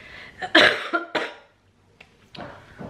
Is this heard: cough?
yes